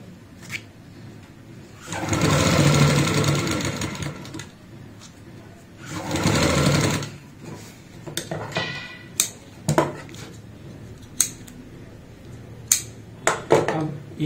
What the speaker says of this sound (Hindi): एक एक सिलाई हम अंदर की साइड लगाएंगे, इससे हमारा ये दबाव दब जाएगा और इसके धागे वगैरह भी नहीं निकलेंगे।